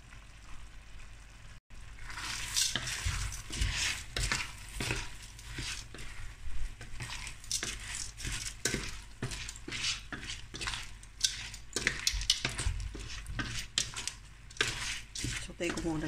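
Fideuà noodles tipped into a paella pan, followed by clattering metal scrapes and stirring taps against the pan under a light sizzle, with a person talking over the cooking.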